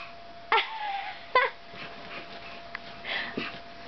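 A young child makes short yelping, whimpering sounds imitating a dog, two sharp yips followed by softer whines.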